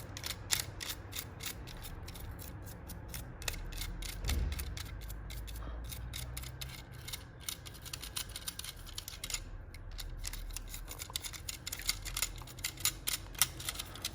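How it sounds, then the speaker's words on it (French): Rapid dry scratchy clicking from a small brush scrubbing the inside of an electric shaver, continuous and close, soft and fairly quiet. "je nettoie l'intérieur. Simplement comme ça. Avec la petite brosse là."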